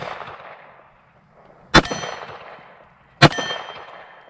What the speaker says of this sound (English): Let's go for the MGM gong.